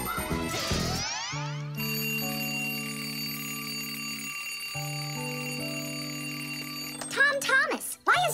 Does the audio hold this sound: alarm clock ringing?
yes